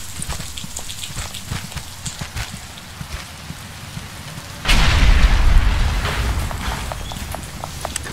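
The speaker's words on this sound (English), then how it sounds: "But it's starting to rain." Rain falling in Batman: Arkham Asylum as a steady hiss with scattered patter and footsteps, swelling suddenly into a heavier downpour midway and staying loud to the end.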